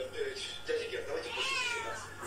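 A cat meowing several times in short, rising calls, mixed in among people talking and laughing nearby.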